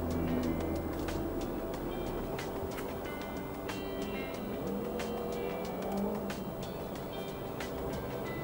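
Congested road traffic on Ram Intra Road near Km 8 in Bangkok, beside Pink Line elevated rail construction: a steady, dense engine rumble with faint intermittent ticks and clicks throughout, no talk.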